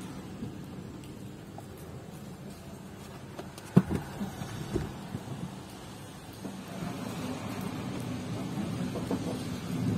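Steady rain patters outdoors, with a low rumble of thunder and a few sharp knocks midway, the downpour growing slightly heavier toward the end.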